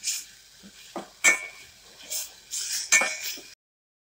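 Spice paste stirred and fried in a pan for Kadaknath chicken curry, heard as a few sharp utensil scrapes and clinks against the pan over a faint sizzle, close and intermittent.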